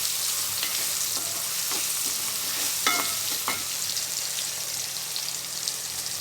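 Ginger garlic paste sizzles steadily in hot oil, with a few soft stirring scrapes and taps breaking through the continuous hiss; no one speaks.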